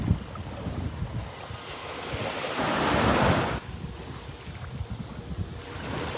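Ocean waves washing in at the water's edge, with a steady surf wash and wind buffeting the microphone; one louder wave swells and breaks in the middle before easing back to a softer wash.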